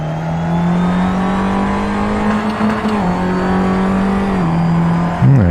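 A loud, steady Formula 3 race car engine in the video game Assetto Corsa drones at high revs, with slight pitch shifts and a sudden rev near the end.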